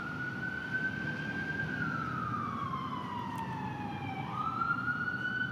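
Outdoors, a wailing emergency siren sweeps slowly up and down in one long, unbroken tone, fairly distant over a low, steady hum.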